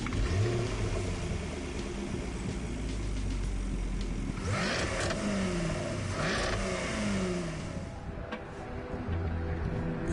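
A Jaguar GT3 race car engine revs and accelerates in Gran Turismo Sport, rising and falling in pitch through gear changes, steady and fairly loud for the whole stretch with no talk.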